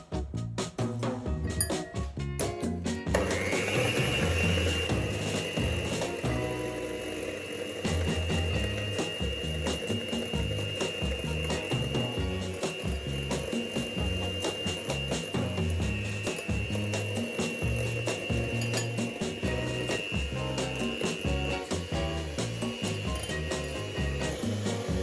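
An electric mixer whips egg whites with cream of tartar and caster sugar for gluten-free fluffy pancakes: a steady, close motor whirr with a constant whine, running without pause for about 25 seconds and no talking.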